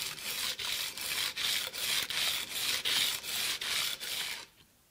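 Jointer knife honed in a jig on coarse P80 abrasive, nine close rhythmic rasping strokes about half a second apart, then silence.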